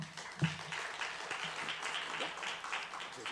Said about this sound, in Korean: 우리 강사님 큰 박수로 환영하도록 하겠습니다